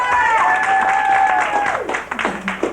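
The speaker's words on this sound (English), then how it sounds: "Married people, applaud." Brief burst of applause and cheering from married members of a comedy club audience, heard mixed with crowd voices and a prominent tonal whoop that fades out after about two seconds.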